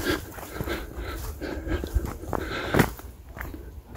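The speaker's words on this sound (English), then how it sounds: "a dog that looks like it wants to come see me" A dog close by, giving soft panting and shuffling movement with footsteps, moderately loud and heard alone without speech.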